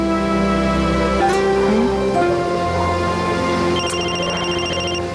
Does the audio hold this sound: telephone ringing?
yes